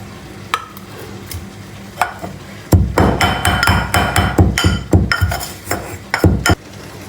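Cumin, mustard seeds and salt pounded in a mortar, a run of loud, close, sharp thuds landing in quick irregular succession after a few sparse taps, with no voices.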